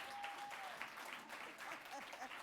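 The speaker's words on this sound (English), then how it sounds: "We have a clap." Audience clapping during an economics lecture: very faint, distant patter of applause from a room, steady and soft throughout, with a thin tone and murmured voices in the background.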